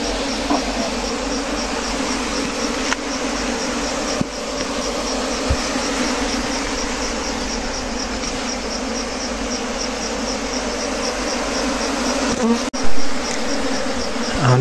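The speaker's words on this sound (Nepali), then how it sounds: "माउरी चाहिँ धेरै मात्रामा आइरहेछ।" A large swarm of wild honeybees arriving at a hive fills the air with a loud, steady, dense buzzing drone that stays close and continuous throughout, with a faint knock near the end.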